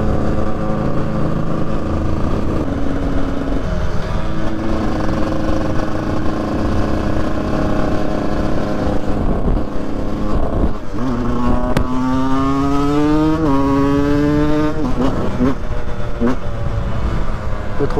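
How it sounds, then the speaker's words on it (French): A 125 EXC dirt bike engine, fitted with a new transmission, drones steadily and loud, then revs rise and fall in stepped pitch sweeps as it downshifts through the gears while riding outdoors. "Rétrogradage de vitesse"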